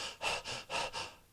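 Shallow breaths are drawn at the top of the lungs, four quick airy pulls and releases in a row. They are close and soft, with no talk.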